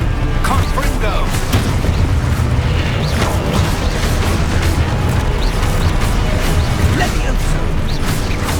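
Confringo blasting-spell explosions in the Hogwarts Legacy game: loud, continuous rumbling booms and crashes of combat, with shouted spell incantations under the roar.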